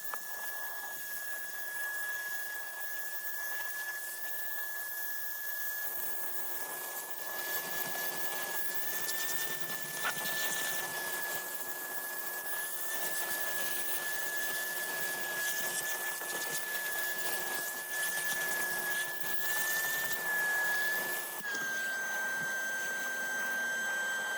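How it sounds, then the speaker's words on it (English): A vacuum cleaner runs continuously inside a dirty, moldy Scion FR-S car interior with a steady high whine, its pitch shifting slightly as it is moved around, with no voices. "we're going to get in there with the vacuum"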